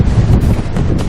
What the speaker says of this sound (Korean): 시간이 갈수록 점점 거세지는 파도. 파도는 배 안까지 물을 뿌려댑니다.